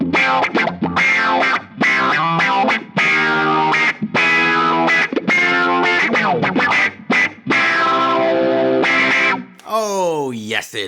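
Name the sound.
guitar through GFI System Rossie envelope filter pedal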